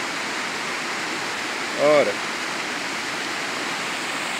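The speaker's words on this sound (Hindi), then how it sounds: "परिदृश्य बना रहा है ये झरना" Waterfall on a swollen river in Uttarakhand during the monsoon, a steady broad rushing roar heard from nearby, with a brief spoken word breaking in partway through.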